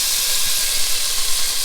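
Cut leeks sizzle in melted butter in a pan, giving a loud, continuous hiss that stays steady with no other sounds.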